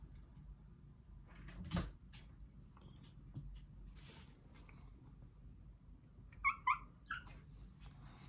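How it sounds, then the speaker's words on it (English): A cat in a room with a gaming PC gives a couple of short, faint meows near the end, after a soft knock or cupboard-like thump earlier in an otherwise quiet space. "Cat's there."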